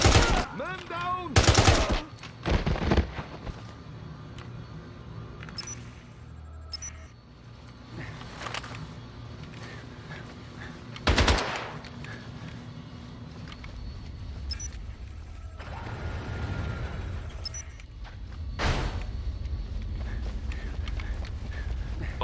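Bursts of automatic gunfire and single shots crack in James Bond 007: Blood Stone, coming in irregular clusters between quieter stretches of background action and occasional voices.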